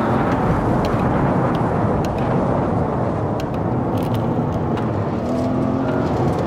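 An Audi RS6 in the virtual reality racing game Assetto Corsa. The engine drones loud and continuous under acceleration, with a broad low rumble and a steady whir and no pauses.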